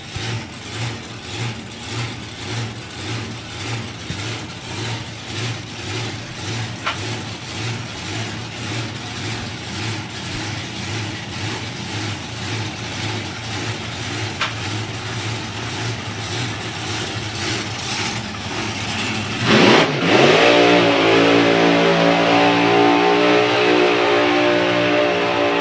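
A supercharged Outlaws drag car at a drag strip, its engine idling with a lumpy, pulsing rhythm that builds, then roars up sharply into a loud, sustained high-rev burnout near the end.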